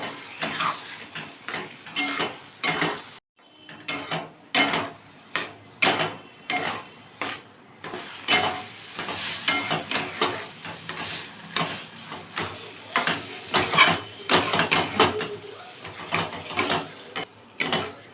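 Close, rhythmic scraping and clattering of a spatula stirring bottle gourd peel with turmeric around a metal wok, in steady repeated strokes.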